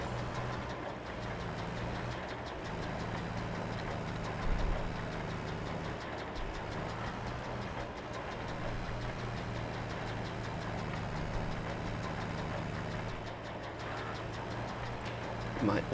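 An old Zetor tractor in a farming game labours with a steady, droning engine under load, running continuously and fairly loud with slight rises in strain, while someone talks over it.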